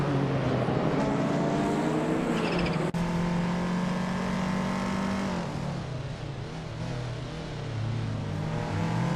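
A turbocharged classic Lotus Esprit Turbo racing in a video game gives off a loud, continuous engine drone that shifts pitch as it revs, with one sharp click partway through.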